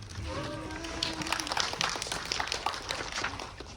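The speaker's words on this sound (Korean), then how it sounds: "저희 배우들한테 저 박수 좀 쳐주세요" Audience applause during a movie stage greeting at COEX cinema, a dense steady wash of clapping with scattered sharper hand claps, fairly loud and continuous under a noisy hall ambience.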